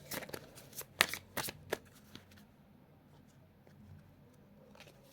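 Deck of tarot cards being shuffled close up: a quick run of crisp flicking riffles and taps in the first two seconds, then softer scattered card rustles in a quiet room with no talk.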